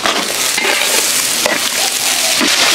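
Beef skin stir-frying in a hot wok with chili, Sichuan pepper and bean paste, giving a loud, steady sizzle with scraping stir strokes throughout and no talk.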